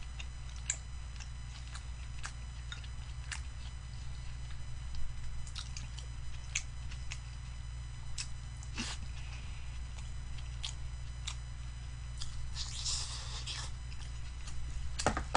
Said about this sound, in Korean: 취하지 않게 꼭꼭 씹어 먹겠습니다